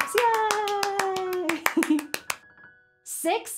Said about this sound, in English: Now give yourselves lots of claps.